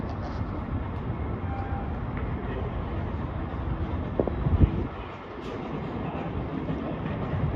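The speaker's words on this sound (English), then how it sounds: "here comes my train" A train rumbles steadily along the rails in Boston, Massachusetts, a low continuous roar with faint clicks and squeals, passing fairly close.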